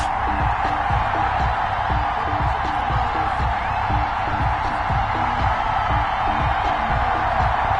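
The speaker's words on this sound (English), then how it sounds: "This crowd is ready as their guys get set to match up" A dense, steady stadium crowd roar with scattered whoops from an EA Sports NFL video game, Las Vegas Raiders against the New York Giants, continuing evenly throughout with no voices standing out.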